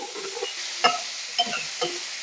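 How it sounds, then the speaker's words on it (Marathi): Chopped spiny gourd being sautéed in a spoonful of oil with asafoetida and turmeric: a soft steady sizzle with a few sharp clicks of a spoon stirring against the pan, close and quiet. "अशी तेलावर परतायची."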